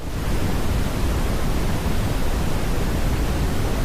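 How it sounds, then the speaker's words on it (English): Continuous brown noise fills the space with a smooth, dense hum and low rumble, steady and loud throughout with no variation or other sounds. "Usually what I listen to is something called brown noise"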